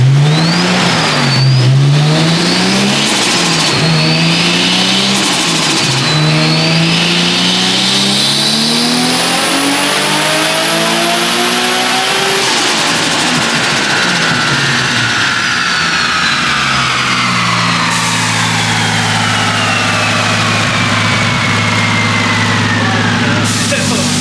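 A Nissan Skyline R34 M-Spec Nür engine on a dyno at 14 psi boost revs hard through rising and falling sweeps, loud and close, with turbo whine overhead and a steady high-rpm drone near the end.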